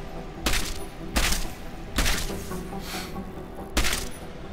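Four loud, evenly spaced gunshots from a semi-auto pistol loaded with EMP rounds at a shooting range in the video game Deus Ex: Mankind Divided, sharp and close over a steady low background hum.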